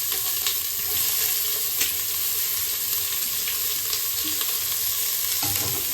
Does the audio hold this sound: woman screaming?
no